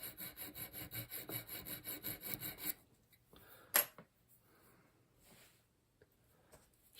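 A fine metal file rasps back and forth across a steel edge while deburring trigger parts on an AYA No. 4 shotgun, a steady run of close strokes followed by quieter handling and a sharp clink.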